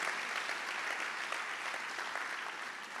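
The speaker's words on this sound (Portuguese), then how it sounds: "As palmas exaltam e glorificam o nome de Jesus." A church congregation claps steadily during a sermon, dense continuous applause heard from a moderate distance that fades slightly toward the end.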